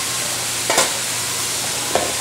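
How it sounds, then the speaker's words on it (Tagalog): Steady sizzle of carrots and potatoes going into a hot pan in a canteen kitchen, with a couple of brief stirring scrapes over continuous frying hiss. "Lagay na natin yung ating carrots and patatas"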